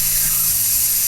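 A spray can lets out one continuous hiss, a steady, bright and fairly loud rush of air that lasts about a second, with no voices over it.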